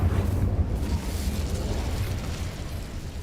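An Incendio fire spell cast in the Hogwarts Legacy video game, a loud whooshing burst of roaring flame that starts strong and slowly fades over a few seconds, with no voices.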